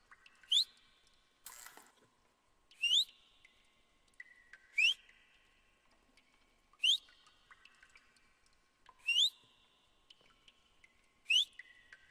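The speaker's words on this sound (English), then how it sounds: "He's whistling!" A monster in the horror video game Apeirophobia whistles in a series of six sharp, rising whistles, spaced about two seconds apart, with a brief noisy burst early on and a faint background hum.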